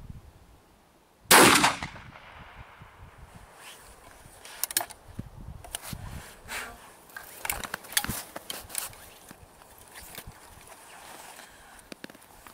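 A shotgun fires a single RIO shell in a pattern test, one loud sharp blast near the start, followed by quieter rustling and handling sounds.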